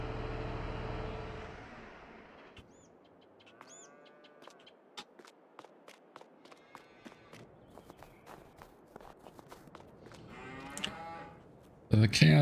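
Cattle low on a snowy farm with footsteps crunching nearby; several moos rise and fall across the clip amid birdsong, with a louder burst of noise at the end.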